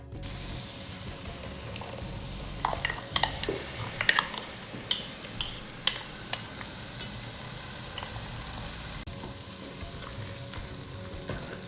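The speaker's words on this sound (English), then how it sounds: "Now let us add the ground masala to this and then fry it." Ground masala paste for a Kerala black chana curry frying in a pan, a steady low sizzle under scattered sharp scrapes and taps of a spoon stirring, close and moderately quiet, with no talk.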